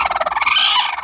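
Hens squabble over eggs, a loud, close burst of rapid, rattling, gobble-like clucking lasting about a second.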